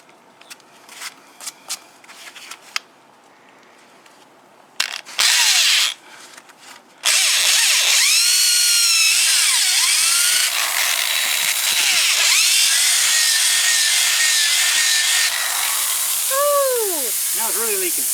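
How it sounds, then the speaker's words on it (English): Power drill boring a hole through a tire, starting with scattered handling noise, then a loud steady drill whine from about seven seconds on, with air hissing out of the tire and short squeaky pitch sweeps near the end. "So I'm going to cheat and use my drill."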